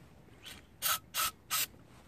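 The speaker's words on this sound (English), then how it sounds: "what we're going to do is give it a spray" An aerosol can sprays onto the rear wing of a GY6 scooter in three short, even hissing bursts, close and crisp, after a faint rub.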